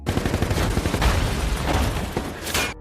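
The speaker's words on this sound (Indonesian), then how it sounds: "Tiba-tiba sebuah serangan tembakan terjadi dan langsung menewaskan seorang pasukan" Loud bursts of rapid gunfire crackle in quick succession, with heavy booming echoes and a final sharp blast, no voices.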